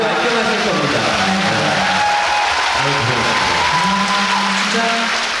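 A concert crowd at an encore in Busan applauding and cheering in a dense, steady roar, with higher voices sliding through the noise and no clear speech.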